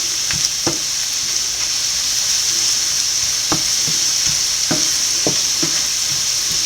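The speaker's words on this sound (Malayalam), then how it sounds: "നല്ലപോലെ വഴറ്റുക. അതിൻ്റെ ആ ഒരു പച്ചമണം മാറുന്നിടം വരെ വഴറ്റുക." Chicken puff filling sautéing in a pan, a steady close sizzle of frying throughout with intermittent clicks and scrapes of stirring, no voices.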